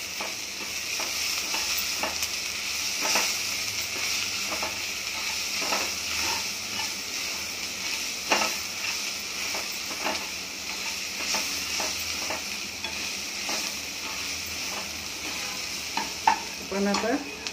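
Coriander powder and salt sautéed in a pan for a tomato chutney, a continuous frying sizzle with repeated spatula scrapes and stirs, close up with no talking.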